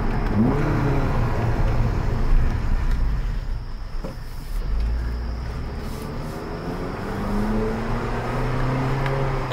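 An Acura or Honda engine with an aftermarket intake and stock exhaust revs up and down repeatedly, a loud whooshing intake roar rising and falling over a steady rumble, close by.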